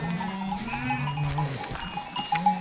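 Sheep bleating in a flock, several wavering calls overlapping at close range with a steady background murmur of animals.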